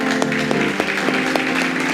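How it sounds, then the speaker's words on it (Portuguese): A church congregation applauds, a continuous, dense clapping with some sharper individual claps over a sustained tone in the room. "Vamos aplaudir o Senhor, pessoal?"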